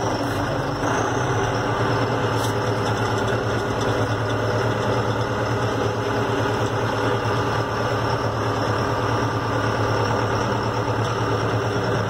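A New Holland T5.80 tractor drives forward in second gear, its diesel engine a steady, close, unchanging drone with a low hum and faint mechanical whine, and no voices.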